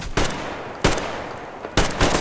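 Three separate gunfire bursts from a weapon in the video game Metro Exodus, each a sharp broadband crack with a short decaying tail, spaced irregularly about a second apart and loud against a quiet background with no talk.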